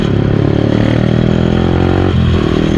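A Yamaha R15 V3 motorcycle fitted with an aftermarket silencer roars loud and close, its engine holding a rough steady drone before the pitch shifts near the end.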